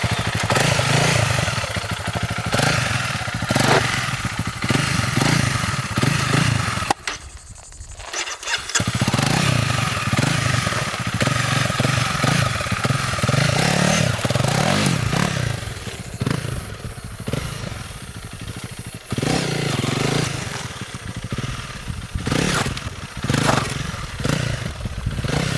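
A Honda CRF300L dual-sport motorcycle creeps along at slow, trials-style speed, its single-cylinder engine chugging and revving unevenly with a brief dip near the start and clattery mechanical noise throughout.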